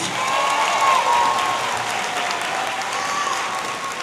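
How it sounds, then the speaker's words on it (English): A high school graduation audience claps in sustained applause, steady and moderately loud, with faint cheering and voices blended in and a high whistle-like tone drifting through. "Give Greg another round of applause, please."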